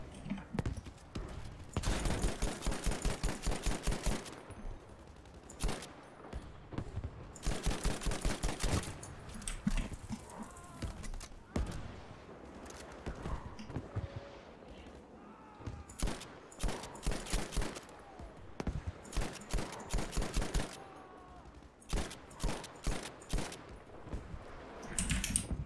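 Gunfire from Battlefield V bursts in rapid volleys with pauses between them, sharp and fairly loud, with quieter game sounds filling the gaps.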